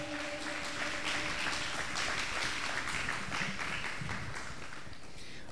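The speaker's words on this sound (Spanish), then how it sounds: "Podemos dar un aplauso al Rey de Reyes," Church congregation applauding together, a steady broad wash of clapping filling the room for several seconds with no break, the hymn-like tones of a faint sustained note lingering early beneath it.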